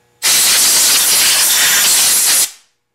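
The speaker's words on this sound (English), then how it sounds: "The best way to do that is with compressed air if you have it." A strong, steady hiss of compressed air blasting debris from the cooling fins of a Briggs & Stratton single-cylinder L-head small engine, starting abruptly, holding loud and constant for about two seconds, then cutting off.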